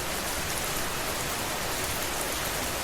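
Steady, dense rain falls evenly without pause, a constant soft hiss of drops with no thunder or voices.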